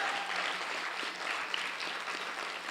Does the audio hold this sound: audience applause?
yes